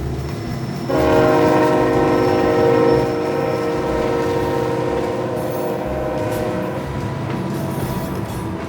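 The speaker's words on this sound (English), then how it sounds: "You can really feel the train moving here." A train rumbles steadily past close by on the Tehachapi Loop in California, a horn sounding for a couple of seconds over the continuous low roar of wheels on rails.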